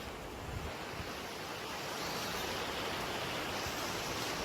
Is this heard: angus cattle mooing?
no